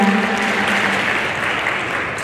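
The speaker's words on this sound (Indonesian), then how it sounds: "Tepuk tangan dong sekali lagi untuk kita semuanya." Students at a university discussion event at UBHARA give another round of applause, a brief dense burst of clapping from a crowd that stays steady and fairly loud throughout.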